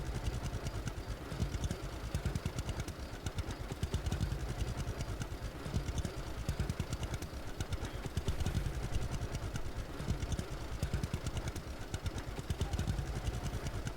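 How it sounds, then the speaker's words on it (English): A tractor in the video game Lumberjack's Dynasty idles with a low, steady chugging pulse that runs evenly throughout, fairly quiet and alone without voices. "If only this tractor would hurry up and do it, because I'm in a rush now."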